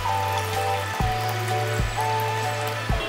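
Water poured into a vessel for iced tea, a steady continuous splashing stream with a few brief bumps, close and fairly loud with no voices.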